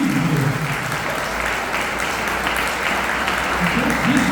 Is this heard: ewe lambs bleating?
no